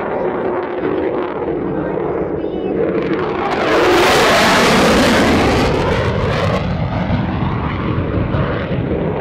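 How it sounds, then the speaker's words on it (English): An F-16CJ Fighting Falcon roars past low and fast at an airshow, its engine noise swelling to a loud peak mid-way then fading with a sweeping pitch shift. "Demonstrate the low altitude high-speed capability of the F-16."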